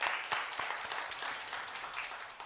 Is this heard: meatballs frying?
no